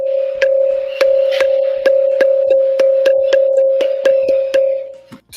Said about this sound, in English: And here is a sound similar to a school bell.